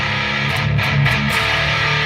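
Electric guitar played through a Joyo Uzi distortion pedal with the gain dialed back and a boost, giving a thick, continuous saturated tone that holds steady and loud for about two seconds with no talking.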